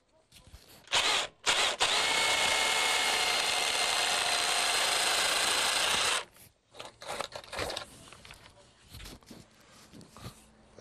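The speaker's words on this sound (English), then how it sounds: "I have to drill a hole through this skin of brickwork" A power drill whines steadily for several seconds, biting through a skin of brickwork close up, followed by scraping and knocking sounds.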